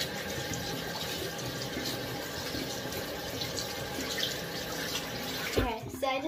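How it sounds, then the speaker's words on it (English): Hands being washed under a running tap give a steady, close rush of water that runs unbroken through the clip, with a short knock and clatter near the end. "Okay, so I just washed it off my hands."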